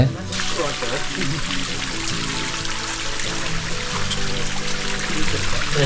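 Cold mountain water trickling and pouring at the first water point on the Kumara Parvatha trek, a continuous close splashing flow with voices talking over it.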